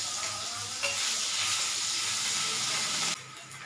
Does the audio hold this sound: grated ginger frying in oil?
yes